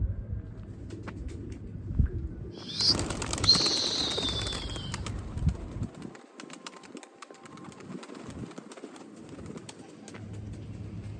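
An outdoor pigeon beats its wings in a rush of flapping, with coos and bird calls scattered through a faint open-air background.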